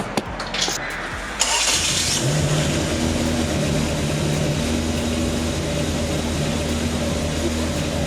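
An Acura Integra with a B20 VTEC engine cranks briefly, catches, then settles into a steady, rumbling idle, close by and loud.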